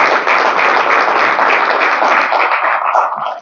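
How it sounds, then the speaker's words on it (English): An audience at a business training session claps continuously, a loud, even roar of many hands that holds steady for a few seconds and drops off abruptly at the end. "Let's clap for this initiative."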